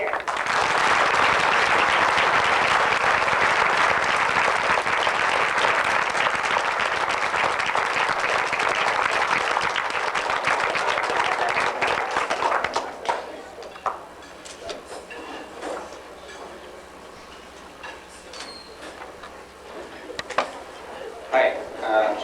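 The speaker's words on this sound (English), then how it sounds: "we're welcoming and applauding Dr. Upadimpa from the McKinley Health Center" Sustained, loud applause from an audience at an award dinner welcoming an honoree, lasting about twelve seconds before fading into scattered claps and room noise.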